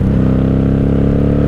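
A 1997 Honda Magna 750 VF750C motorcycle engine runs at a steady, loud idle-like rumble, a continuous low throb with even pulsing and no speech.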